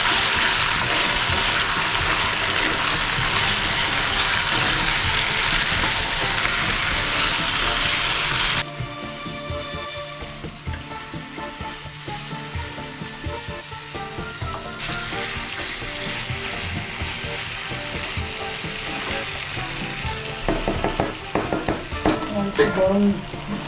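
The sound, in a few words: masala paste frying with hot water for Bengali katla fish curry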